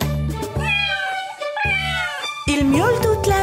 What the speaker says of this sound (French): Il miaule toute la journée